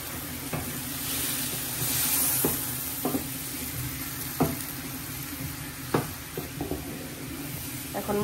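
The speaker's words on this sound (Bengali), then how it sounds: "একটু জল দিয়ে দিচ্ছি আগেই।" Water splashed into cumin, coriander, turmeric and chili spices frying in a pan, bringing a continuous hiss with scattered pops and spatula knocks, moderately close and without talk.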